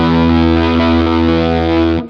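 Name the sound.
woolly fuzz pedal on electric guitar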